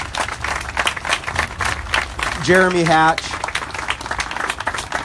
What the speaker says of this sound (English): thank you for applauding for those artists